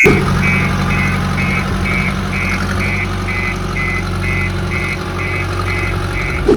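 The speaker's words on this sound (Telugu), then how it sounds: "ఇప్పుడు నేను రివర్స్ గేర్ వేస్తున్నాను" A JCB Agri Max loader engine runs steadily in reverse gear, a loud constant diesel drone with low rumble and an evenly pulsing beep repeating about every third of a second, no talking.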